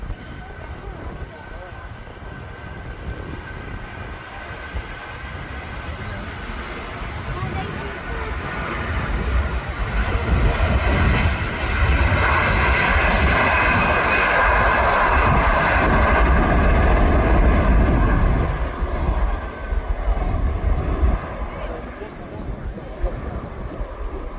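A Virgin Airbus A330 jet takes off from Manchester Airport, its engine roar swelling from a distant rumble to a loud, broad peak mid-way, then easing off slightly, with wind buffeting the microphone throughout.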